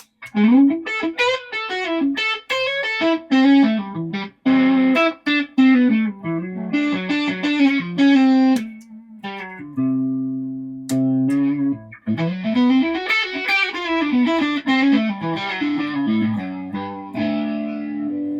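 An electric guitar through a tweed-style amp pedal, gritty and slightly breaking up with a choking quality, plays chords and single-note runs, with a few sustained notes and short pauses between phrases.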